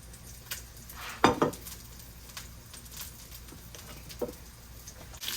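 Rice tipped into a hot pan lands in a sharp sizzling burst near the start, then a steady low frying hiss runs on with a few light utensil scrapes and clinks.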